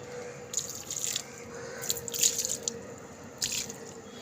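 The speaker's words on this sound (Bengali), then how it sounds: "গাছে সব জল দিয়ে দিচ্ছি" Water poured onto garden plants on a misty morning, intermittent splashes and drips in short clusters over a faint steady hum, fairly quiet and without speech.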